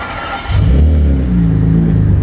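An old BMW car with an Eisenmann exhaust starts up: a brief quiet moment, then the engine catches and settles into a loud, steady, deep idle rumble close by, with no talking.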